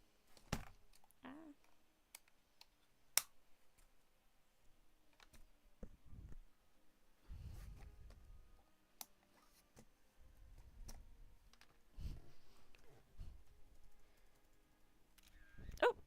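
Computer keyboard keys clicked during a test, sparse scattered taps and clicks at close range, each short and sharp against near silence, with a few soft thumps between them.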